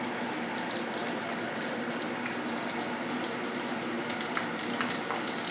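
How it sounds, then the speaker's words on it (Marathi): Sliced green chillies and ginger crackling in hot oil for a tempering, a loud continuous dense hiss and crackle throughout, close and unbroken, with no talking. "बघू शकता आपला फोडणी चांगली तडतडलेली आहे."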